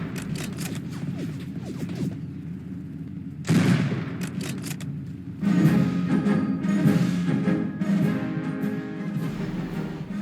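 Gunfire in the Roblox game D-Day: a busy battlefield with repeated cracking rifle shots and dense, overlapping bursts of distant fire, with no voices.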